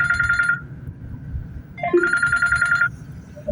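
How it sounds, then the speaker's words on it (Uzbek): A phone ringtone plays in two electronic bursts separated by a brief pause, fairly loud over low background rumble. "Do'stim telefon qilyapti."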